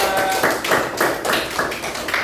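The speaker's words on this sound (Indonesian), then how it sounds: "kita tepuk tangan untuk kita semuanya" A classroom of students clapping together in unison, a rhythmic burst of quick, close hand claps repeating in regular beats.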